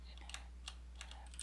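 Rapid, crisp key presses on a computer keyboard, a run of close clicks in an uneven rhythm over a steady low mains hum, with no voices.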